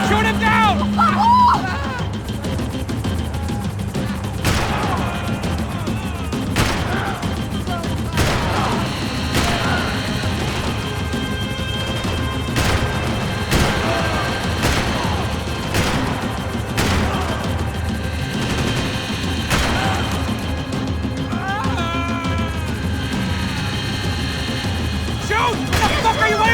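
Max Payne 3 firefight with repeated sharp gunshot bursts and crashes spread across a busy, loud mix of engine rumble and shouting voices throughout.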